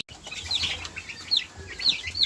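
Chickens clucking and a rooster's short calls, several bird voices close by with faint chirps over a quiet background.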